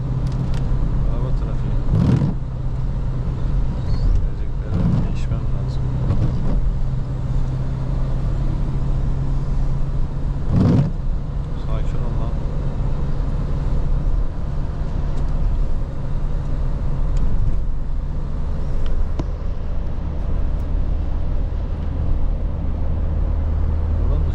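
Late-night Istanbul street traffic on a hill, with a steady wash of engine and road noise and several cars whooshing past at intervals, while people talk over it.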